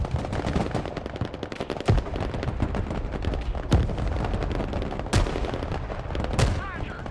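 Sustained gunfire and machine-gun bursts from the modern-warfare strategy game Broken Arrow, dense and continuous throughout, punctuated by several louder sharp reports and booms roughly every one to two seconds.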